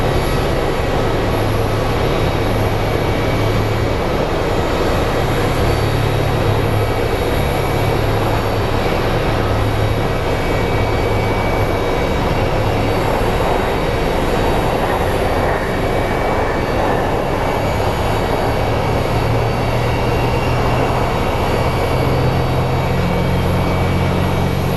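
A Southwest Airlines airliner arriving from Baltimore at Phoenix Sky Harbor airport gives a continuous, loud jet engine roar with a broad rushing hiss, steady throughout with faint shifting tones and no voices.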